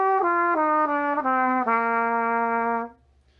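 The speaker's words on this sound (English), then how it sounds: "That is how the trumpet sounds." A brass trumpet plays a short, clean phrase of sustained notes, the pitch stepping down through valve changes in a smooth legato line before the last note rings on and then stops, solo and close with no talking.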